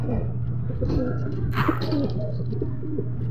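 A racing pigeon coos as it arrives at the loft, with soft, repeated throaty coos close by while someone talks over them.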